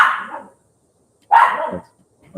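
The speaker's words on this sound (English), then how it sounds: "The puppy doesn't like it when they clean the floor, so she's a little bit irritated." A puppy barks twice, loud and close, with a pause between the sharp barks, irritated while the floor is being cleaned in a home in Costa Rica; a faint yip follows at the end.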